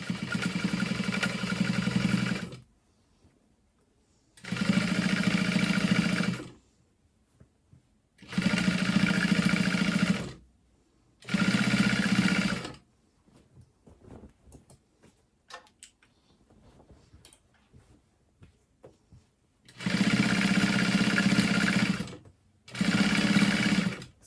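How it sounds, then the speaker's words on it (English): A sewing machine top stitches through the thick ruffle of a blanket in several loud, steady runs of a few seconds each, separated by quiet pauses with faint handling noises. "So right now I'm just top stitching through the thickness at the ruffle."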